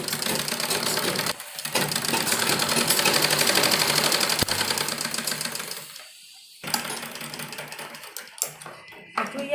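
A sewing machine stitches a baby dress made from a dupatta, running in fast close rattling bursts with brief pauses between runs and quieter handling between stitches.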